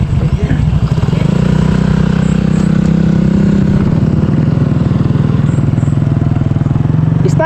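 A motorcycle engine runs steadily up close, a loud low rumble with a rapid pulsing throb throughout.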